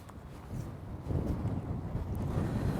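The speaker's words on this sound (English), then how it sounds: "that is so windy." Strong wind buffets the microphone during a coarse fishing session, a deep, continuous rumble that grows louder partway through; no voices.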